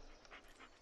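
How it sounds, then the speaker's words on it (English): Dog panting in the horror video game Blair Witch: two short breathy pants, close and quiet, with no other sounds. "This is Bullet, your right-hand dog. Listen to his barking and watch his body language"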